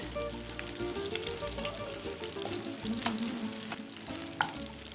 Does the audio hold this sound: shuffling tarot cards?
no